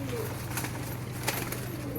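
A pigeon coos softly in a loft, low repeated throaty calls over a steady hum, with faint voices in the background.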